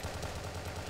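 Automatic gunfire from the video game Crossfire rattles in a rapid, even burst of shots that fills the whole moment at moderate loudness.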